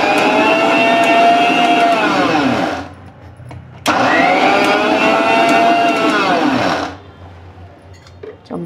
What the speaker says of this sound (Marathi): आता आपण हे मिक्सरला फिरून घेऊ.